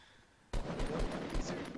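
Rapid Fortnite Battle Royale gunfire starts abruptly after a quiet moment, a dense burst of shots with a few louder cracks standing out, fairly close and loud.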